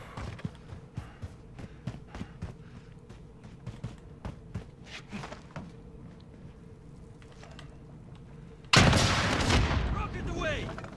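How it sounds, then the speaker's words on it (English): A rocket launcher fires in a video game with a sudden loud whooshing blast near the end, following scattered distant gunshots and thumps, with someone speaking at points. "Here comes the rocket launcher."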